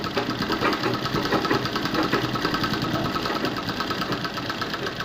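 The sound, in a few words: sewing machine stitching blouse patti piece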